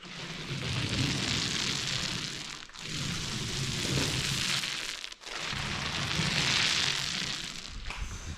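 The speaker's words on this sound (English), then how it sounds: "That's the sound of the perfect amount of paint in your roller." Thick, wet rolling and squishing of a paint roller loaded with paint on a patio, continuous and close, with two brief pauses between strokes.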